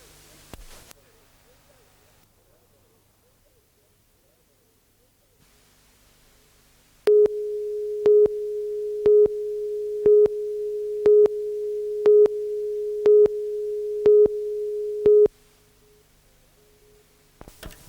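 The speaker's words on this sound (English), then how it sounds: "Although the phones continued to ring, there was no one to take the orders." A telephone for pizza orders in 1992 rings as a run of about nine evenly spaced electronic tone pulses, loud and alone after a quiet stretch.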